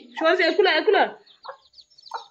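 A person speaks briefly, followed by a few soft, scattered clucks from a hen with three-day-old chicks and faint high peeps in a quiet setting.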